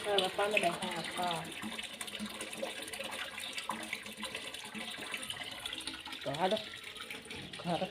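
Water runs from a household tap in a steady, moderate gush while people talk nearby throughout.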